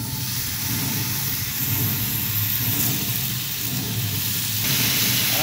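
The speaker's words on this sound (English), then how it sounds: "Let's get our bacon on first." Bacon sizzles on a Green Mountain Grill pellet-grill griddle outdoors, a steady crackling hiss over a low constant hum that holds for several seconds without talk.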